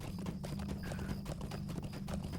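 Horse hooves clip-clopping in a fantasy role-playing game as a mount is ridden north to a bridge, a quick, steady run of sharp hoof knocks over a low ambient hum.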